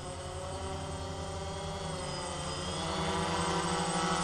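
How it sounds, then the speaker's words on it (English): A DJI Phantom 1 FC40 quadcopter drone hovers close by with a steady, high whining buzz of its propellers, growing slightly louder as it comes in to land. "we're gonna come back. Come back and land over here somewhere in the vicinity."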